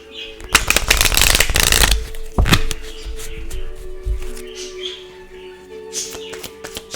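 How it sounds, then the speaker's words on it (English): Empowerment oracle cards being shuffled close by, a dense run of crisp papery riffles early on and then softer intermittent card shuffling with scattered light taps. "Let's pull from the empowerment cards."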